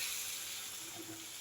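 Boiled lentils poured into a pan of hot pumpkin greens, giving a soft, steady hiss and light sizzle heard close up with no talking.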